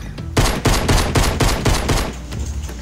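A rapid, loud burst of about eight pistol shots in Fortnite fires in quick succession over two seconds, then the last report fades with a short ringing tail.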